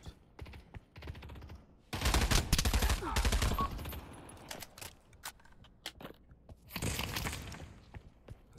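Gunfire in the VR shooter Pavlov VR on an industrial team-deathmatch map, two loud bursts of rapid automatic fire separated by quieter scattered shots and footsteps.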